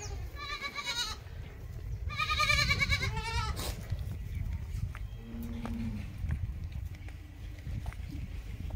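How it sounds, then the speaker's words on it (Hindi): A large goat bleats in a few wavering cries near the start, then quieter farm background with faint low calls, as milking begins outdoors; a person speaks alongside. "चलिए हम बड़ी बकरी का मिल्किंग करेंगे अभी"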